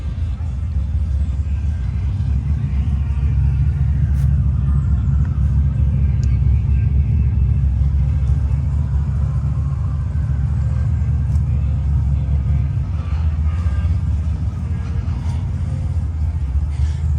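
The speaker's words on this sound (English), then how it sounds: "Well, that thing sounds good. Just something about that motor, boy." A classic Mopar V8 rumbles steadily at idle, a deep, loud, continuous engine drone holding close by for the whole stretch with only slight wavering, while people talk faintly underneath.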